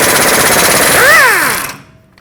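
A loud, rapid rattling burst of a power tool with a swivel socket removing bolts on a Ford F-350 parking brake, running about a second and a half, pitch rising then falling before cutting off.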